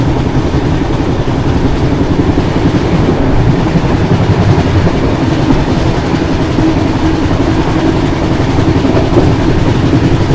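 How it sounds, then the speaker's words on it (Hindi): An LTT Mumbai Gorakhpur Kushinagar Express runs at about 117 km/h, a loud, constant roar of wheels and rails heard from inside the coach, with steady rumbling and faint clickety-clack, no voices. "ट्रेन तो अपनी लगभग 117 किलोमीटर पर आवर की स्पीड मेंटेन किए हुए है"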